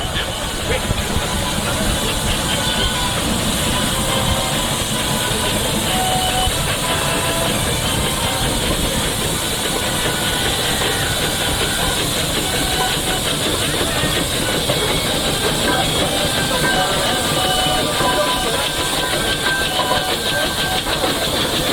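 A steam showman's engine runs at the Masham steam rally, giving a loud, continuous chuffing hiss and mechanical rumble while people talk over it.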